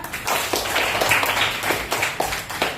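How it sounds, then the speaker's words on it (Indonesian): A classroom of students claps for a classmate, a scattered burst of hand claps at close range that continues steadily for a few seconds. "Beri tepuk tangan untuk Raymond."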